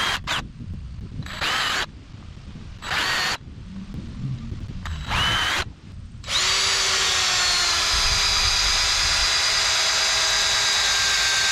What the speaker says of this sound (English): now that I got those pilot holes drilled